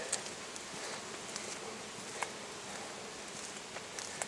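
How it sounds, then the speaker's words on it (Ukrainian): Small wild bees, Osmia or Andrena, working flowering wild plants outdoors, a faint continuous buzzing hum close to the ground with occasional soft ticks, and no voices. "Злинку обслуговують якісь маленькі осьмії типу Андрен"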